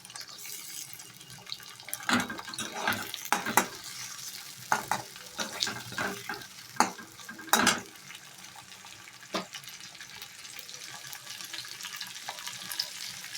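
Onion and tomato paste frying in a pan while being stirred, with scraping, bursts of sizzle and watery clatter scattered across a quiet, close kitchen background.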